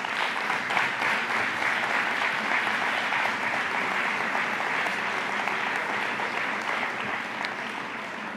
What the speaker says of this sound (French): Puis j'inviterai également à les applaudir parce qu'ils ont une grosse tâche qui les attend.